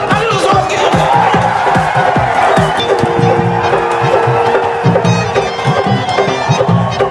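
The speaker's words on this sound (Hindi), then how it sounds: "उनके स्वागत के लिए जोरदार तालियों से स्वागत कीजिए।" A crowd at a competition event, probably at a live reaction gathering, roars and cheers loudly to welcome an arriving guest, with shouting voices and babble in a dense, continuous wall of noise.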